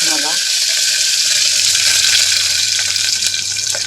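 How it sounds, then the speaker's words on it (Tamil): Mustard seeds splutter in hot ghee with garlic and green chilli, a loud, dense crackling sizzle that stays close and constant throughout, with a brief voice at the very start. "நெய் சூடானதும் கடுகு போட்டுக்கலாம். கடுகு பொரிஞ்சதும் பூண்டு, பச்சை மிளகா,"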